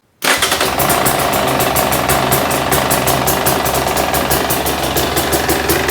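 A 2024 KTM 300 EXC two-stroke throttle-body-injected dirt bike engine starts abruptly and then runs steadily at idle, a loud, continuous buzzing drone with a fast, even pulse and no talking.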